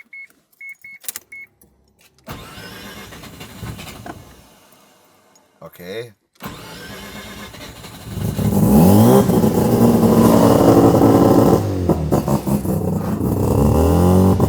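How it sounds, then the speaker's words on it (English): A few beeps, then a Mazda RX-7 rotary engine cranks and catches, idling roughly before revving into a loud, sustained buzzing roar; a voice speaks briefly near the start. "I am ready to start this car up"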